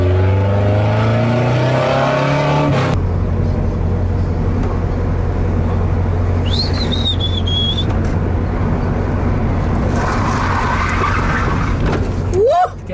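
A front-wheel-drive Volkswagen Gol drifting, engine droning loud and steady while tires screech in long skids, with people talking over the car noise.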